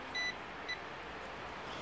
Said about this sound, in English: Wait for it to beep.